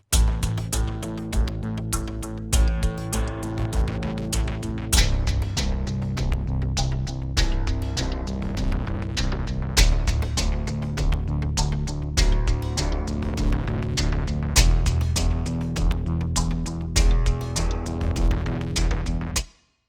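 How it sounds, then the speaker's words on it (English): Sample Logic's Cinematic Guitars Infinity melodic guitar loops play in a dense, full mix with a steady rhythmic pulse, loud and continuous until a sudden stop. "Next up, I have this melodic loops from Cinematic Guitars Infinity."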